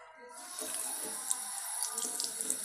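Water from a tap runs steadily while a transparent watermelon sticker is washed under it, a close, continuous splashing stream with small bumps of handling.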